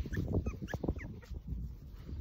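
Puppies four to six weeks old whimper and yip in short, high little cries outdoors, close by, with a few soft snuffling sounds.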